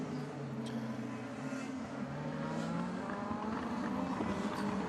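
DTM touring cars, including a BMW, racing at the Nürburgring in 2017, their engines roaring loudly and continuously with rising and falling revs as the cars pass through traffic, with no voices.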